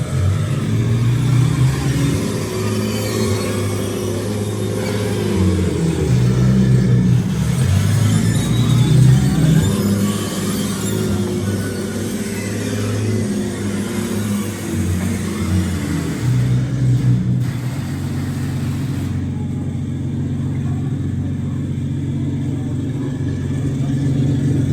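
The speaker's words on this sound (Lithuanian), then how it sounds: "Ir užkuri tankiuką" A tank's 700 hp Maybach engine running at the Sinsheim technik museum, a loud, close, low rumbling roar that swells as it revs around the middle and then settles back to a steady heavy idle.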